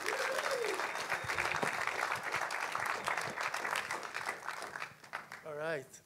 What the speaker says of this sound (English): please help me welcome with a big round of applause our director